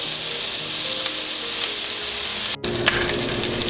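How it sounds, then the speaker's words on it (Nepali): Garlic-ginger paste and tomato puree frying in a pan for butter chicken masala, a steady loud sizzle with a brief cut partway through, then continued hissing and occasional stirring scrapes, no talk. "लसुन अदुवाको पेस्ट र यस्तै गरी टोमेटो प्युरी र यसलाई एकैछिन चलाऊ।"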